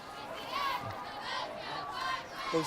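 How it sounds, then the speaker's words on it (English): A crowd at a high school football game on the Calvary campus roars and shouts in swelling waves, loud and fairly close, with scattered individual yells rising above the mass. "this is a crowd unlike any other here on the campus of Calvary"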